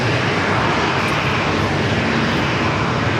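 Challenger 3500 jet taking off from a runway at San Diego airport, a loud, steady, broadband engine roar that holds throughout.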